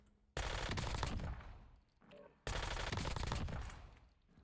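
Automatic gunfire in the video game Call of Duty Black Ops 6: two rapid, sustained bursts of shots, each lasting about two seconds, loud and close, with a short pause between them.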